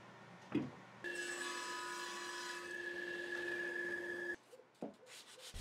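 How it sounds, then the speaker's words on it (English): Light sanding of thin handmade maple splines cut for a walnut waterfall-shelf monitor stand: a steady, close whirring rub lasting about three seconds, then a few brief scrapes and knocks. "it took some light sanding to get them fitting correctly"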